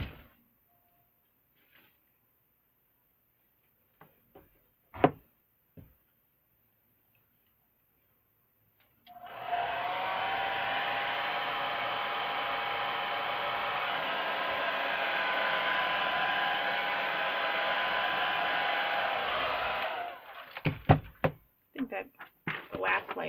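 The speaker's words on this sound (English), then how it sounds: "Hair dryer." A hair dryer blows with a steady, loud whooshing roar for about ten seconds, framed by scattered clicks and handling noises before and after.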